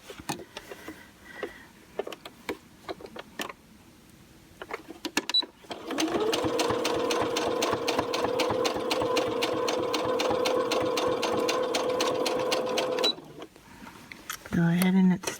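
Sewing machine stitching a fabric bowl cozy, running in one steady, loud whirring burst of several seconds between brief stops, with a few short stitch bursts and handling clicks before and after.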